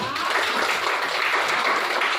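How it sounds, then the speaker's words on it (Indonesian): Classroom of students clapping their hands together in agreement, a short burst of close, busy applause lasting a couple of seconds at an even level. "Kalau sudah setuju, ya kita tepuk tangan semua"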